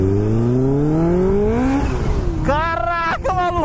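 A turbocharged Kawasaki Ninja H2 motorcycle accelerates hard, its engine note climbing steeply, then a short gap and fresh rising revs with a raspy, pulsing buzz, loud and close, with voices nearby.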